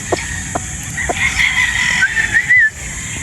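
A bulik broodstag rooster gives one long crow over a steady background hiss, fairly near and loud, with a few faint clucks or taps before it.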